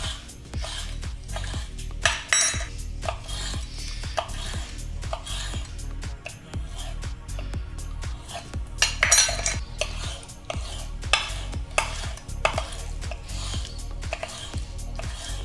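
Ninja Foodi NeverDull steak knife slicing raw chicken breast on a board, a series of soft scraping strokes and light taps in an uneven rhythm, close and fairly quiet.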